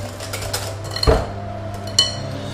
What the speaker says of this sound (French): Je vais ajouter le sucre et je vais mélanger avec mon fouet.